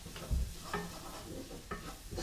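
Garlic, onion, ginger and a teaspoon of turmeric cooking in a saucepan, with a soft steady sizzle and a few spoon scrapes and knocks against the pan, fairly quiet and close.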